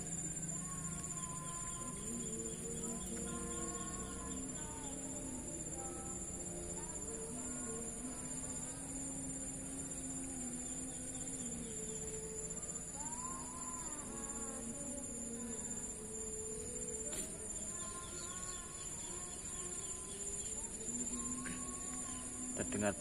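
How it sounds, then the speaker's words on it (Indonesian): Outdoors in open countryside at a fishing spot, crickets keep up a steady, high drone while birds call intermittently, with faint, layered chirps running through a constant ambient background. "Terdengar pula suara-suara burung ya, karena di alam bebas seperti ini memang masih banyak kita temukan"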